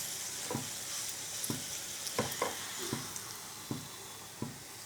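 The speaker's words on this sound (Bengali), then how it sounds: "সব পরোটাগুলো এইভাবে আমি ভেজে নেব" Aloo paratha fries in a pan with a soft, steady sizzle, punctuated by several sharp scraping taps as it is pressed and turned.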